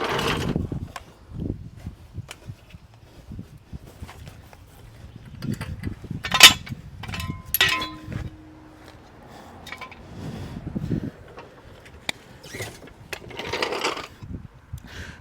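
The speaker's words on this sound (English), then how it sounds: "I'm going to let the jack down." A car jack is lowered under a 2014 Dodge Journey AWD 3.6 litre after a passenger-side CV axle replacement, giving scattered metallic clicks, ratcheting and clanks with quiet gaps between them, close by and with no talking.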